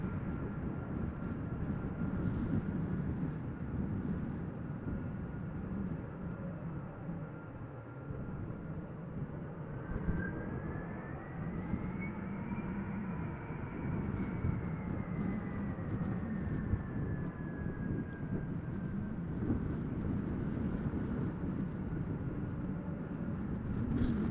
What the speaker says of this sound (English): it's going to take off from the runway 18 left. It's coming this way